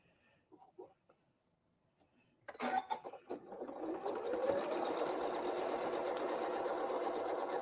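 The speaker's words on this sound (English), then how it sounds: "And right sides together and sew." A sewing machine stitches quilt block pieces sewn right sides together for a Christmas Star block. Soft handling clicks come first, then a sharp start and a steady, close motor whir that runs to the end.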